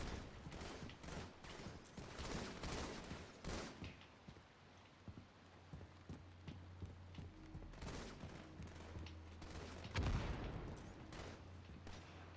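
Sniper rifle gunfire in the Halo MCC video game cracks out as repeated sharp shots, dense at first and then sparser, over a low humming background, fairly faint and distant.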